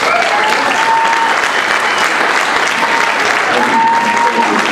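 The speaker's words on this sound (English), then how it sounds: "Drew Peterson, we're going to give you a round of applause here." Steady, loud applause from a crowd fills the space at a university athletics welcome event, continuous clapping with no break throughout.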